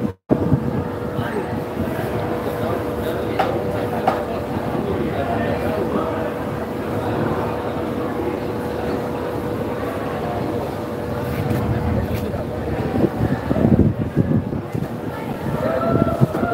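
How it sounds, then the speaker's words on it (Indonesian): Strong wind buffets the microphone at a seaside fish market, a constant rough roar with gusty swells, and a voice speaks through much of it. "Waduh, anginnya kencang."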